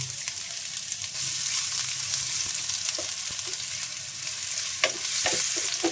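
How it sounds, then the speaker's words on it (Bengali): Steady, loud sizzling of onions frying in hot oil, with occasional clicks and scrapes of a utensil stirring the pan. "প্যানে পেঁয়াজ দিয়ে দিচ্ছি।"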